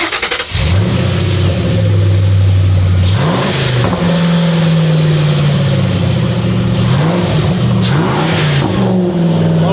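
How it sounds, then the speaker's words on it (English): A 2006 Ford Mustang exhaust, heard from behind the car, revs hard and loud several times, rising and falling in pitch between blips over a steady rumbling idle. "I think she wants to hear the exhaust from the back."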